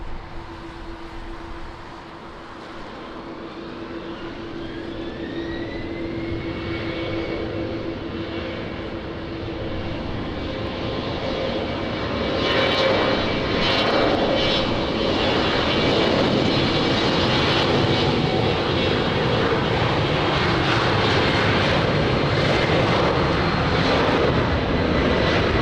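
A fixed-wing airplane takes off from runway 20 at Lisbon Airport in wind and rain, its engine roar building steadily from a moderate rumble to a loud sustained whine with rising tones, close and continuous.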